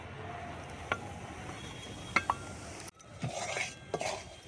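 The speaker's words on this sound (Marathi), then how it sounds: "हे बेसन पीठ चांगलं परतून घ्यायचं, मस्त लाल कलर येऊस तर चांगलं भाजून घ्यायचं त्याला" A spoon scrapes and clinks against a pot as besan flour roasts in homemade ghee over a wood-fired stove, with a few sharp metallic taps and soft stirring scrapes, close and fairly quiet.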